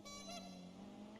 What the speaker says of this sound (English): Oh yeah, the clown horn.